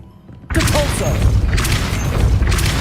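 The Depulso spell is cast in Hogwarts Legacy, a sudden loud booming impact after a brief quiet start, followed by sustained rumbling blasts and crackling debris, with a voice speaking briefly.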